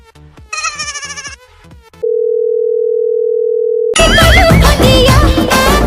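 A telephone handset gives a steady, loud dial tone lasting about two seconds, with brief electronic beeps just before it and louder music following right after.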